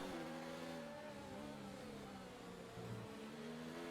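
Race car engine in F1 2019 on a rain-soaked Canadian track, a steady droning whine with shifting pitch as the tail slides out for grip, continuous and close with no talk.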